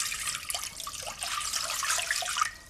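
Tap water runs steadily into a measuring jug, a bright continuous splashing and trickling stream close by, with faint pitch shifts as the jug fills to the measure of water for homemade laundry detergent.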